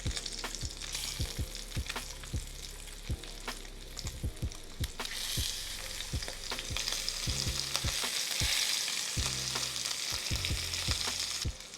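Thick lamb chops sear hard in a hot pan, a loud continuous sizzle and crackle with repeated sharp knocks and scrapes as the chops are turned, with no voices.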